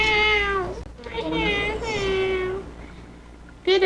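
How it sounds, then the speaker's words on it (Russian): A cat meows three times, two long drawn-out calls close together and a short one at the end, loud and near with no talking. "Пойдет мяукать."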